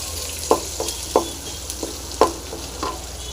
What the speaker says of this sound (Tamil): கடுகு பொரிஞ்சிச்சு வெங்காயம் போடலாம் நல்லா ஃப்ரை ஆகிடுங்க